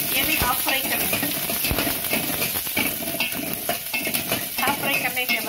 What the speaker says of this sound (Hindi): ये जो प्याज काट के रखी हो ये भी डाल, ये भी हाफ फ्राई करना है।